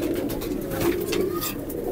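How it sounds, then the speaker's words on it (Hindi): Indian highflyer pigeons in a loft coo low and throaty in overlapping murmurs, a steady close hum of several birds without talk. "ये कलदुमे कबूतर है सारे"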